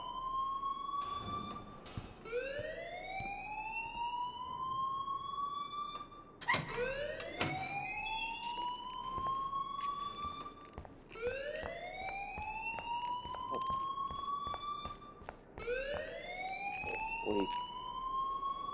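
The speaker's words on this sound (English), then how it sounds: "please turn off that alarm since that's your job" An electronic alarm in the video game Life Is Strange wails in repeated rising sweeps, loud and piercing, cycling roughly every four seconds with no speech over it.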